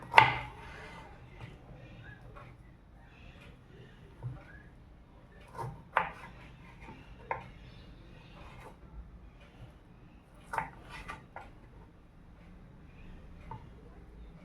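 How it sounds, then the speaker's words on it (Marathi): Washed, dried lemons are cut into small pieces on a board for homemade lemon pickle, giving sparse, quiet knife taps and thumps at irregular intervals with long gaps between them. "लिंबू आपण स्वच्छ धुवून पुसून छोटे छोटे तुकडे करणार"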